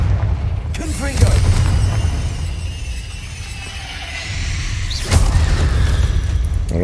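Confringo blast spell fired in Hogwarts Legacy: two loud, close booming bursts a few seconds apart over a steady rumbling game backdrop.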